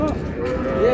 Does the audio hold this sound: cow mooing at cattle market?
yes